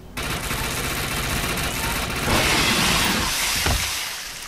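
An SMG in the shooter game Defiance fires in rapid, continuous bursts, a loud dense rattle of automatic gunfire that swells slightly midway and then tails off.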